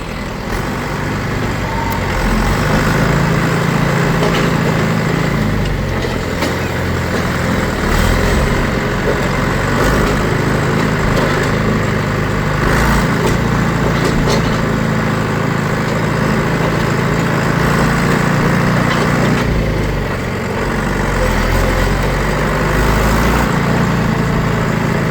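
A forage wagon's unload auger runs steadily as it fills a silo with corn silage on a farm, a loud continuous mechanical drone with a tractor engine underneath, alone throughout.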